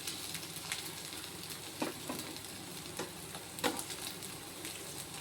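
Fish fries on a stone griddle, sizzling and crackling steadily in hot oil, with occasional louder pops and spatters, close up and without talking.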